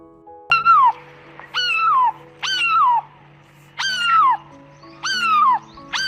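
A cat meows six times in a steady rhythm, each call clear, close and falling in pitch, with short pauses between.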